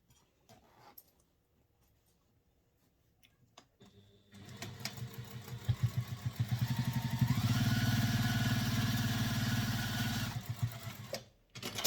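A sewing machine bastes around the edges of a handbag lining: a few faint clicks and handling noises, then the machine starts up and stitches in a steady, close mechanical whir before stopping.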